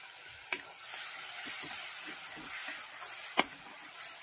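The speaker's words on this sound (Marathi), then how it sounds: "ही हिरव्या मिरचीची पेस्ट आपल्याला तळून घ्यायची आहे." Green chili paste frying in hot oil with curry leaves, a steady soft sizzle throughout broken by two sharp spoon clinks against the pan.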